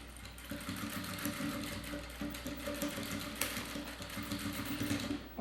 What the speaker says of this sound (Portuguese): Venho aqui na máquina, passo uma costura prendendo